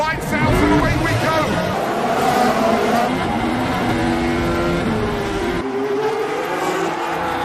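F1 cars accelerating off the grid at a race start in the F1 2025 racing game: a loud, continuous layered engine roar rising in pitch, with a voice over it.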